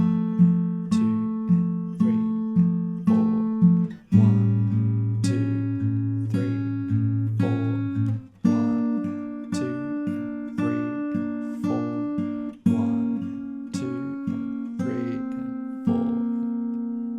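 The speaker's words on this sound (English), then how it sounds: "verse 1 in total will sound like this." Acoustic guitar fingerpicking the verse of a song: steady, evenly spaced plucked notes over shifting chords, clear and close, with no talking.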